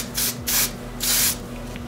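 Hairspray hisses onto teased, curled long hair in three short bursts, the second and third longer, close to the microphone with a low steady hum underneath.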